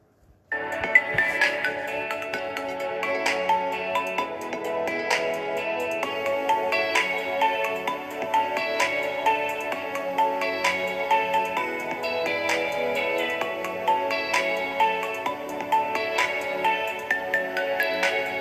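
A bright piano-like ringtone melody from the film Saaho plays on, repeating a catchy phrase at steady volume throughout, with no talking.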